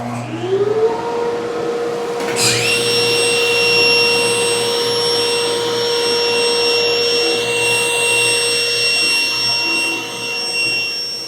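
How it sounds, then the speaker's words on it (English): A woodshop dust collector spins up with a rising whine, then settles into a loud, steady roaring hum with a high tonal whine over it, continuous and close, with no talking. "Start your dust collection,"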